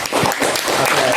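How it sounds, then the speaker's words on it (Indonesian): A short burst of applause from a classroom group, everyone clapping together, steady and fairly close for just over a second. "Tepuk tangan semuanya."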